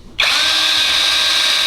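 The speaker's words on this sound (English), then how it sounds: "We're gonna drill these holes as inward as possible towards the side skirt" A power drill bores holes in a carbon fiber side skirt extension on a BMW E9X. It starts abruptly and holds a loud, steady, high-pitched whine, heard alone.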